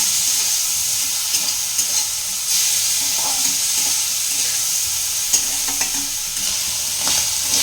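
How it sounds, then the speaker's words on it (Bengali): Snails lightly frying in a pan while being stirred, a constant close sizzle broken by repeated scraping and clinking strokes of a spoon, with no talking. "গুগলিটা হালকা করে ভেজে নিচ্ছ নাকি?"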